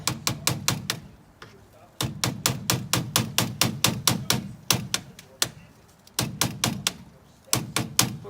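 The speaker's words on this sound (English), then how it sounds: "I maybe need some tips on how to hammer nails." Nails are driven into wood with a frozen banana in bitter cold, sharp rapid strikes in bursts of a dozen or so blows, separated by brief pauses, close and loud.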